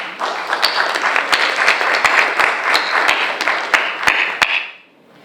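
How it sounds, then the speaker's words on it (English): An audience at a social development awards event claps for an awardee in a thick, lively round of applause with sharp individual claps standing out, then quickly fading out at the end. "A round of applause."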